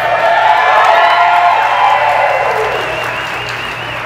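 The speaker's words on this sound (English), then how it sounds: "Give her a big cheer, because that's brave." At an open stage night, an audience cheers and applauds a performer, a loud burst of clapping and whoops that gradually fades over a few seconds.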